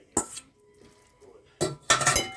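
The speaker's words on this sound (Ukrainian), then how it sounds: "Висипаю все сюди в мисочку гарненько." Cooked food is tipped into a small bowl, giving two short clattering bursts of spoon and dish clinks separated by a quiet pause.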